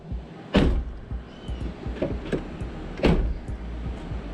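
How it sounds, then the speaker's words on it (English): Front door of a 2007–2013 Chevrolet Tahoe with a freshly replaced outer handle, shutting and opening in a quiet garage: two sharp latch thumps about two and a half seconds apart, with lighter clicks of the handle and lock between them, all without talk. "As you can see, we're closing the door, and we can open it with no problem."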